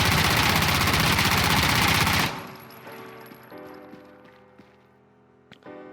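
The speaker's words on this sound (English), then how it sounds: "Alrighty, so now we have the MP7. I'm going to shoot all 40 rounds." An MP7 submachine gun in Insurgency: Sandstorm fires one continuous burst of about two seconds, loud and close, then gives way to quiet game ambience with faint clicks and rattles.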